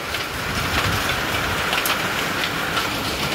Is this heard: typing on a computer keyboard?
no